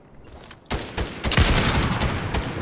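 Video game gunfire builds from a few scattered shots into a loud, rapid stream of overlapping bursts, close and continuous to the end.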